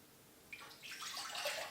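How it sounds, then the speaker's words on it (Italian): Room-temperature water pours into a container for focaccia dough, starting as a faint trickle and swelling into a steady splashing pour over about a second. "Per prima cosa verso 225 g di acqua a temperatura ambiente all'interno del contenitore."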